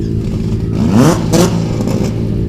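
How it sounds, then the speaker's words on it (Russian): A drag-racing car engine revs hard in a short burst, a deep throaty roar rising and falling twice with mechanical clatter, loud and close. "Рев моторов как музыка для ушей автолюбителя"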